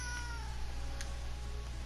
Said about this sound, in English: I apologize if you hear my cat in the background.